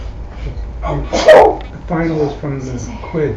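A single sharp sneeze bursts out in a classroom or lecture setting, standing out loudly over ongoing conversation, with people talking before and after it.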